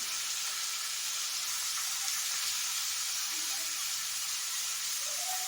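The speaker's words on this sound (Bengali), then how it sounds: "এখানে গুগলিটা দিয়ে দিয়েছি পেঁয়াজের সময় ভাজা ভাজা হতে" Boiled river snails fry with onions in a hot pan, giving a steady, bright sizzle and hiss that runs unbroken and fairly loud throughout, with no voices.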